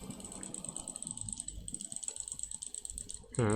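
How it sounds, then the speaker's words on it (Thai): A computer mouse is clicked rapidly and continuously to reel in a fish in the Roblox game Go Fishing, producing a dense, fast clicking under whirring reel sounds. "ต้องรัวเมาส์นะครับ"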